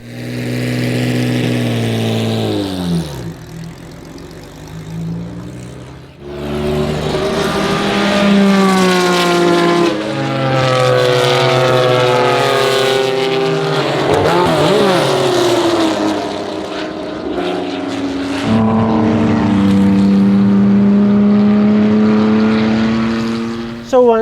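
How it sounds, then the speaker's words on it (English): A 1973 Porsche RSR clone race car drives on track, its engine loud and close throughout with rising and falling revs, gear changes and a sustained mid-pitched roar. "today I'm driving my 1973 RSR clone"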